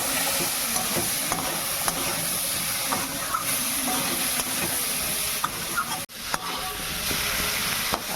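Potatoes with salt and turmeric fry in a pan, giving a steady close sizzle and hiss with occasional scrapes and taps of a spatula stirring, plus one brief dip partway through.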